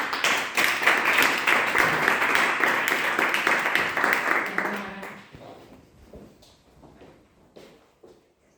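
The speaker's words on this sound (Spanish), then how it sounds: "Le damos la bienvenida a Manuel David, un fuerte aplauso." Audience at a Toastmasters speech event clapping to welcome a speaker, a burst of brisk applause that fades out after about five seconds into near silence.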